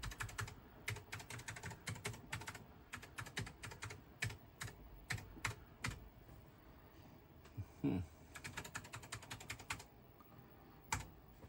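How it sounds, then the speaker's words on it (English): Keys clack on the keyboard of a vintage 1984 Apple IIc computer in quick, irregular bursts of typing with short pauses, close and fairly crisp. "Let's test the keyboard."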